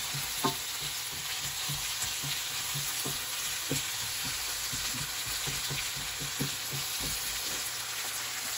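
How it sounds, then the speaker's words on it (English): Onions caramelizing sizzle and crackle steadily in a hot frying pan, with soft scraping stirs tapping in now and then. "Let's caramelize the onion."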